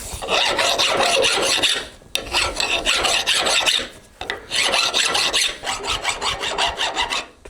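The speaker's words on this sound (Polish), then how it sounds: "Twardy pilnik piszczy." A hard metal file rasps against the riveted corners of an old hundred-year-old lifting jack, in long rhythmic strokes broken by two short pauses, close and loud, with a thin squeak in the scrape and no voices.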